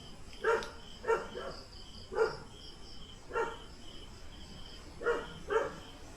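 A dog near a house in the mountains barks six times in separate single barks spaced irregularly, fairly distant and moderate, over a faint hiss of insects.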